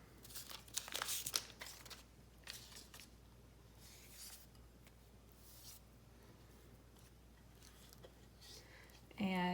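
Paper being folded and crinkled for paper mache: quiet close rustling and crumpling in scattered bursts, busiest near the start, with a louder crinkle at the very end.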